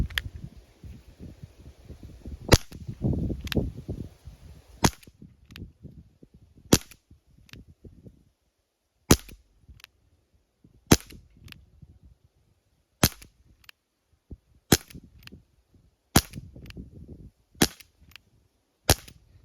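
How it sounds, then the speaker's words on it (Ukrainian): Ten sharp, snappy shots from an Umarex Colt Python 2.5-inch CO2 air revolver ring out one at a time at irregular intervals, each followed by a short pause and faint handling noise. "Десять пострілів зробив."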